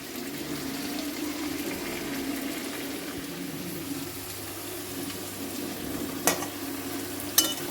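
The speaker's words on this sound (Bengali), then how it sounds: "এবার ভালো করে নাড়াচাড়া করব, ভালো করে কষিয়ে নিয়ে মশলাটা দিয়ে দেবো" Tiger prawns and potatoes are stirred and fried in a pan for a Bengali curry. A steady low sizzle runs throughout, with a few sharp clinks of the spatula against the pan near the end.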